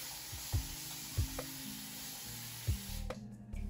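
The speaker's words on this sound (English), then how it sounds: "Using a spray bottle." A few quick squirts from a spray bottle, each with a soft click of the trigger and a short misty hiss, close by and fairly quiet.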